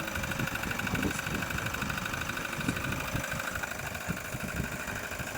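A 2020 Toyota HiAce commuter van engine idles steadily after an oil change, a constant close-up mechanical hum with a faint rhythmic pulsing and whine, with no voices.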